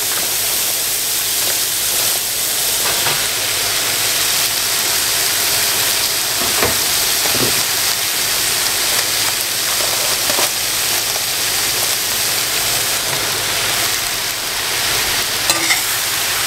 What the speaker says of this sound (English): So we're just going to kind of cook these onions down for a while. I'm going to add in my mushrooms here